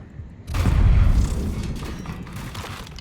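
A boom goes off in the Eternal Strands open-world game, a heavy low thump that swells abruptly and then trails into a rumbling, debris-filled tail with no voice over it.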